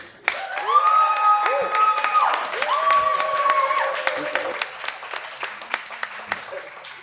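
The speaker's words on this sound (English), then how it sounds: "I need you to make some real roof-raising red Emmas applause" An audience applauds a panel at an evening event, with loud cheering and whoops over the clapping, which thins into scattered claps toward the end.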